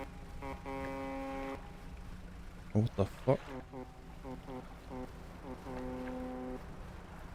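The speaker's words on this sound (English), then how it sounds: "In the night, I honked at a ship, who repeated my honking pattern." A ship's horn honks twice at night in the fishing game Dredge, each a long, steady low blast. Between the blasts a voice exclaims and there are a few sharp thuds.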